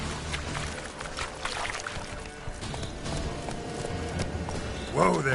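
Roach the horse in The Witcher 3 video game trots with a steady, close clip-clop of hooves over ambient game sound, ending in a brief rising vocal sound.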